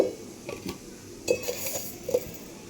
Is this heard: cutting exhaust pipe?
no